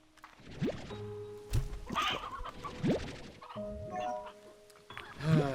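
Chickens cluck repeatedly in the video game Slime Rancher 2, with several short, sharp clucks and squawks spread through the clip over a busy game soundscape, with no talk.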